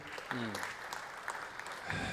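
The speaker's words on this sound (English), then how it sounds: "A round of applause for our CJ." An audience claps at the close of an Adventist talk, a short burst of applause mixed with a voice speaking over it.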